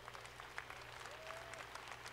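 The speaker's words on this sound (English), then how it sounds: "Let's give them all a round of applause." Brief applause from a crowd at EA Play 2018, a continuous patter of clapping at moderate distance for about two seconds.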